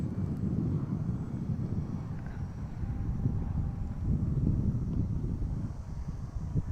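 An FMS MXS V2 1100mm RC 3D plane flies at a distance on a windy day, a steady low engine drone mixed with gusty wind rumble on the microphone, fairly faint and continuous.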